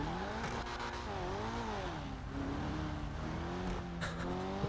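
A car engine revving in a video game roleplay server, the pitch rising and falling through gear changes, with some tire squeal and scuffing, steady and fairly close, no talking.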